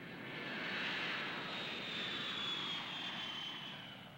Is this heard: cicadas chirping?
no